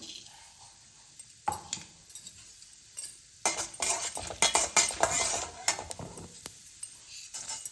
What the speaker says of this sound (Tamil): கடலைப்பருப்பு உளுந்த பருப்பு நல்லா வந்து ஃப்ரை ஆகட்டும்